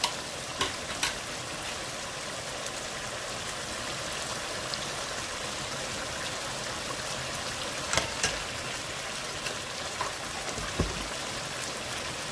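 Butter melting in a hot pan sizzles in a dense, steady frying hiss, broken by a few sharp crackles and pops, close by and with no talking.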